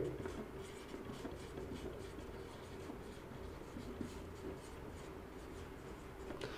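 Pen or marker writing on a board during an electrical machines lecture, a faint continuous scratching and rubbing with small strokes and taps, quiet and close, with no talk over it.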